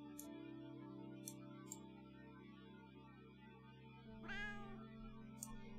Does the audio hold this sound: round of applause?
no